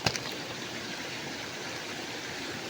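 Clear water pours steadily at a spring and waterfall in Sitio Capuz, San Rafael, Sto. Tomas City, Batangas, a constant close rushing wash with a brief louder splash at the start and no voices.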